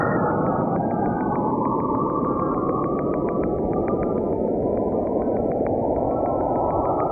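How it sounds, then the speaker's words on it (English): An eerie, echoey radio signal hisses steadily with a regular train of sharp clicks, while a tone slowly descends in pitch and then climbs back up, continuous and fairly loud with no voices. "Echoey with clicks. This is definitely a radio signal."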